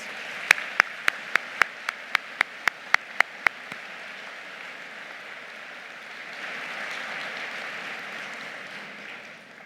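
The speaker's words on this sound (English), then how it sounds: "Let's take a moment and applaud all the individuals who are here today with us." A university convocation audience applauds steadily at a moderate distance. A short run of sharp, evenly spaced clicks sounds over the clapping at the start.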